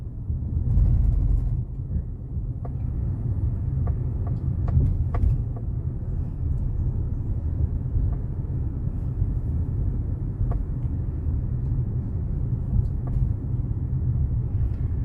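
Car driving slowly through narrow streets during a driving lesson, a steady low engine and road rumble heard from inside the cabin, continuous and fairly loud, with faint small clicks and no talking.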